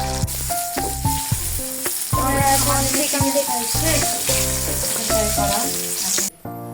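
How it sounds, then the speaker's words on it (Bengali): Food sizzling loudly in hot oil, with onion, potatoes and chicken being fried, a steady crackling hiss broken by bursts of spattering and stirring clatter throughout, ending abruptly. "আমরা এখন এটা ভেজে নেব"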